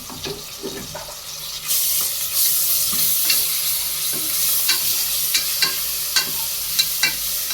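Ginger-garlic paste fries for mutton biryani, with a steady sizzle that jumps louder once the paste hits the hot oil, followed by repeated sharp scrapes and clinks of stirring close by.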